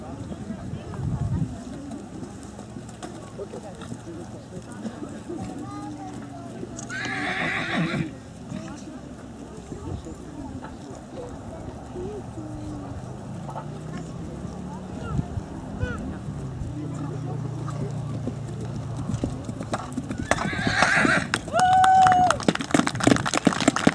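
Horses at a Roman cavalry riding show in an open-air archaeological park, with outdoor wind noise, hoofbeats and occasional whinnies, mixed with people talking.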